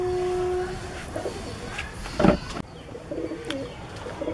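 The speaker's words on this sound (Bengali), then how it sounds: "এই হলো পায়রাটা।" Tumbler pigeons coo softly at close range, with low murmuring calls, a brief louder flutter midway and scattered chirps, and no talk.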